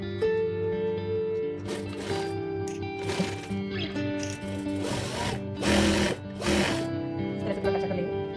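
A sewing machine runs long stitches through Patiala dress fabric in several short mechanical whirring bursts, close and fairly loud, alternating with a voice talking over a quiet background.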